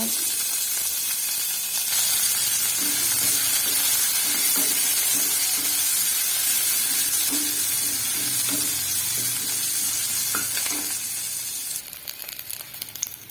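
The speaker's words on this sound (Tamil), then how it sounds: "சின்ன வெங்காயம் ஆட் பண்ணி நல்லா வதக்கி கொடுங்க" Shallots sizzle loudly in hot oil, a continuous crackling hiss with occasional scrapes of stirring, easing off toward the end.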